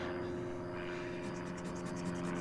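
A low-flying plane passes overhead as a steady, droning engine hum with a layered tone, heard up close throughout.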